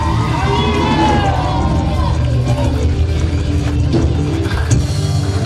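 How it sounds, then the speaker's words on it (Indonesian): A church congregation claps and cheers for God during a youth worship gathering, a loud, continuous roar of applause and crowd noise with voices mixed in that lasts the whole time. "Beri Tuhan tepuk tangan yang terbaik untuk Tuhan kita"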